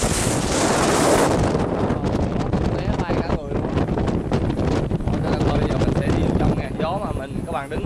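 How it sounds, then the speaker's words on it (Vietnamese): Strong wind roars and buffets the microphone on the open deck of a high-speed passenger boat carrying 400 people, loud and continuous, with someone talking under the gusts. "đi ra đây là gió dữ dội luôn"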